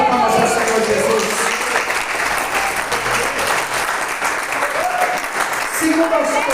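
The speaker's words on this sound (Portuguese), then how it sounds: "Dá uma salva de palmas ao Senhor Jesus." Sustained applause from a church congregation during a worship service, dense clapping filling the whole stretch with a few voices faintly audible beneath.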